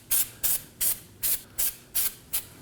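Seven short bursts of Never-Seez anti-seize spray hit Nissan Armada brake parts in an even rhythm, each hiss close and loud with brief quiet gaps between.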